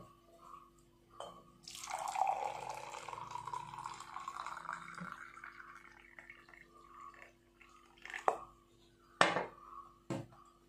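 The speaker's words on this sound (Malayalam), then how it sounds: "നമുക്കിതിൻ്റെ തെളി ഊറ്റിയെടുക്കാം" Boiled hibiscus flower liquid being strained, a close trickling pour of water with drips and a few sharp clinks of a utensil against the vessel near the end.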